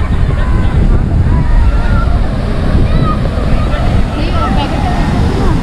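Strong wind blowing at Devghali seaside beach in Konkan, a dense, constant roar with wind buffeting the microphone and surf mixed in, steady and loud throughout.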